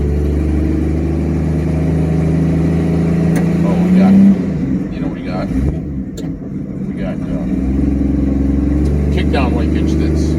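A car engine idles steadily after a carburetor repair, a close low rumble with a brief rev midway, while people talk over it.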